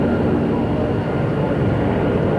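A Royal Flight HCC4 from RAF Benson flies at the 1993 International Air Tattoo at RAF Fairford, giving a loud, steady engine roar that holds without a break throughout.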